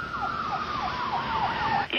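An ambulance siren wails in a steady rising and falling yelp, loud and close, ending abruptly with a short thump.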